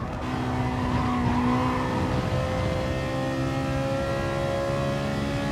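Race car engine droning steadily in Gran Turismo Sport during a manufacturer's series race, a continuous loud hum with shifting pitch and no pauses, close and alone without voices.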